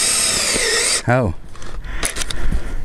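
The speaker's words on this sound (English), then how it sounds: "Let's drill it out." A power drill spins up and bores into timber while building a wooden clapper stile gate outdoors, the motor pitch rising briefly before grinding on, with people talking under the steady noise.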